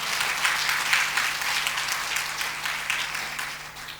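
A crowd applauding at a Christmas sermon, steady clapping from many hands throughout, fairly loud and sustained without a break.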